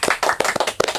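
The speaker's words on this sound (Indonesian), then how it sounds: "Tepuk tangan dulu dong." Several people clap hands in a quick, uneven burst of sharp claps, close and loud, after a closing statement at a church talk-show event.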